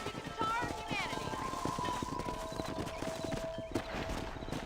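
Horse hooves clip-clop steadily at a riding pace in the Red Dead Redemption video game, a dense rhythmic patter beneath game music and someone talking over it.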